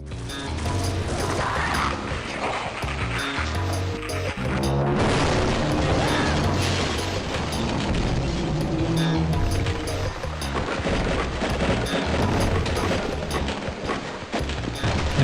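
An NPC blowing apart into debris gibs in a Half-Life mod, heard as loud, dense booming and crashing mechanical noise that continues steadily throughout with no talking.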